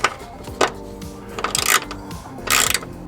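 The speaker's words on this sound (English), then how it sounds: "just hold tight and then just tighten it back, screw it back in place" Screws being driven while fitting a power frunk to a 2026 Tesla Model Y Juniper, heard as close ratcheting and clicking mechanical bursts separated by short pauses.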